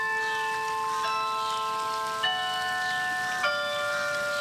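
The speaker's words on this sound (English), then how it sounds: "To hearing the sound of the bell tower." Tower bells ring with long, sustained overlapping tones, a few fresh strikes sounding every second or so over the lingering hum.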